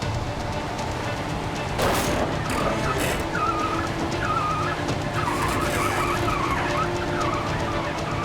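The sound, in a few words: wrecked tractor truck being pulled forward by heavy rescue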